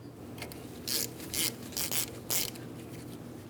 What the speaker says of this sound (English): Let's go ahead and remove the banjo bolt and separate the flex hose from the caliper.